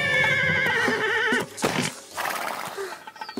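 A nervous horse whinnies loudly and close for over a second, followed by hoof clatter and snorting shuffles.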